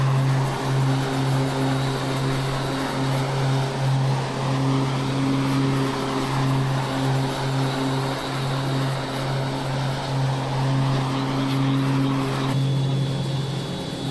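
A Spitfire propeller aircraft engine in a flight game, a steady, loud droning hum with a strong low tone that holds throughout without talk.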